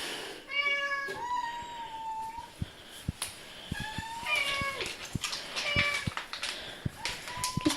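A cat meows again and again close by, short bright calls in irregular bursts over a low background hiss, with faint taps between them.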